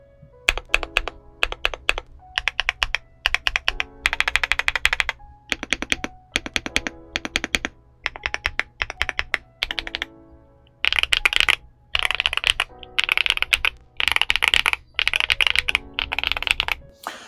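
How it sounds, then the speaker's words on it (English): Brisk typing on a Yunzii AL68 aluminium 65% mechanical keyboard, close and clear, with bursts of rapid clacky keystrokes separated by short pauses and no voices. "Just to get a quick idea of what this keyboard sounds like."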